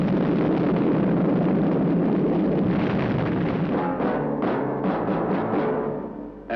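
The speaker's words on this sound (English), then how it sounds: "There has been an explosion in Spectrum Maximum Security Building." Television sound effect of an explosion at the Spectrum Maximum Security Building, a loud, sustained roaring blast with rumbling debris that crackles and fades toward the end.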